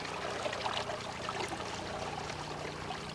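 Cold spring water trickles steadily from a simple spout at the source of the Rio Grande in Minas Gerais, a close, continuous pouring and dribbling wash with no voices.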